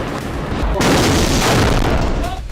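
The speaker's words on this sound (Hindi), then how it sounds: "लाल सागर से हूती इजरायली पोर्ट पर मिसाइल अटैक कर रहा है" A missile strike explosion fired at an Israeli port, a loud, sudden boom that jumps to full force and holds as a dense roaring rumble for a couple of seconds before easing off.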